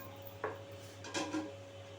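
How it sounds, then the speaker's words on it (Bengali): A pot lid set down over simmering potato curry (aloo dum), giving a couple of brief, soft metallic clinks over a steady low kitchen hum, no voices. "এবার একটু ঢাকনা দিয়ে আমি মিনিট 3 মতন ঢেকে দেবো।"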